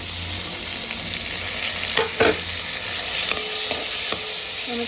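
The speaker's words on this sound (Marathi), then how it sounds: "चांगलं भाजून घ्यायचं. घात घ्यायचा आता टोमॅटो." Tomatoes roast in hot oil in a pan with a steady bright sizzle, while a few scraping stirs and clinks of a spoon come up close over the frying, and no one speaks.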